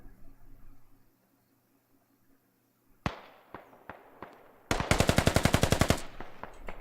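Gunfire in the tactical shooter game Squad: a few sharp single shots, then a fast loud automatic burst of evenly spaced rounds near the end, after a quiet stretch.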